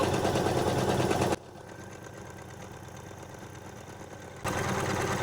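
Usha 550e embroidery machine stitching a back neck design runs with a loud, close mechanical whir, drops to a quieter hum for about three seconds, then picks up at full speed again.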